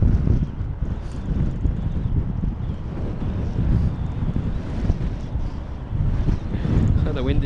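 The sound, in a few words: strong storm wind buffeting the microphone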